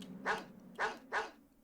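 A dog in the PS1 game Mega Man Legends barks three times in quick succession, each short bark clear and close against a faint steady background hum.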